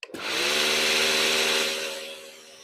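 A small petrol-engine milking machine vacuum pump starts up and runs steadily, a loud, close droning hum with a buzzing rattle that holds even throughout.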